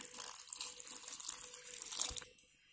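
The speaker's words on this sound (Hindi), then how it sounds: "अब थोड़ा सा पानी डालेंगे इसके अंदर।" Water pours from a vessel into a spice paste of garlic and salt while mutton curry is being made, giving a close, splashing trickle for about two seconds that stops abruptly.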